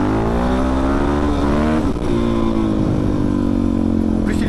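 Motorcycle engine revving hard and close as the rider lifts into a wheelie, pitch climbing through a gear change before holding a loud, steady roar.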